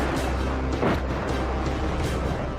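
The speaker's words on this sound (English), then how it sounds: "drive an old Russian tank onto the northern ramparts and bombard the" An old Russian tank fires from northern ramparts during a battle, with booming, rumbling blasts and a dense, continuous roar of gunfire throughout.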